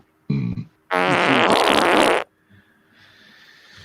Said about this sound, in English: I like when his outro used to have the fart sound at the end